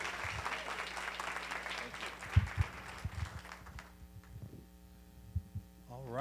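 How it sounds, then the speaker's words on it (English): An audience at a summit gathering claps briefly and thins out over a steady electrical hum, with a few close thumps and a voice starting to talk at the end. "let's give him a big round of applause"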